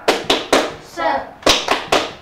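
Sharp hand claps in a quick rhythmic pattern during a primary school physical education lesson, three claps, a short pause with a voice, then three more, close and crisp.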